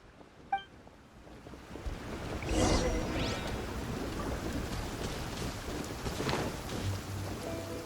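Rain pouring steadily in the Genshin Impact game world, a continuous hiss with a rumble of thunder rolling in partway through and lingering beneath the downpour.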